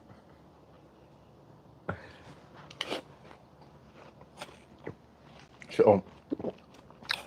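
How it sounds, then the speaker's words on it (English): Someone eating cereal, with scattered crunchy bites and chewing noises close to the mic, a few sharper crunches standing out, and speech in between. "I'm eating on the live stream"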